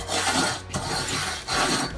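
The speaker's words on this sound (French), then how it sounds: "Je prends ma brosse paille de fer et je frotte tout simplement la grille" Steel wool brush scrubbing the grill of a Pulse 1000 electric barbecue, a close, rasping back-and-forth rub in quick strokes with short pauses.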